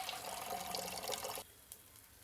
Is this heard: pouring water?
yes